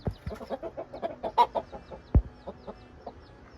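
Chickens cluck in a rapid, close series of short calls inside a henhouse, with one louder squawk partway through and quieter clucks trailing off.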